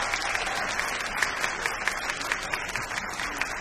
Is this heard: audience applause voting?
yes